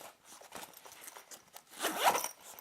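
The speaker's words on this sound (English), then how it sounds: "they do have nice strong zippers right throughout the messenger bag" Zipper running along a nylon messenger bag, a series of short rasping pulls that build to a louder, longer drag near the end, close and alone.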